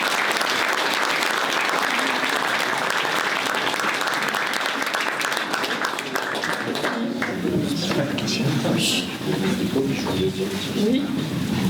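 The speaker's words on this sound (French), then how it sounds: "Je vous propose d'applaudir Martine chaleureusement." Warm audience applause at a local talent awards ceremony in Gex for Martine, honoured for 39 years of volunteering with SOS Animaux: sustained, dense clapping that thins out as a voice begins speaking.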